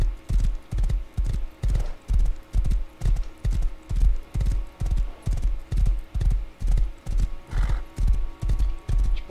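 Horse hooves in the Minecraft video game clip-clopping in a steady, even rhythm, loud and close over a quiet background hum, with a brief whinny partway through.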